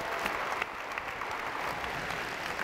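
A crowd at a school district's opening day ceremony claps for PE and health teachers, a continuous, even wash of applause that holds steady throughout.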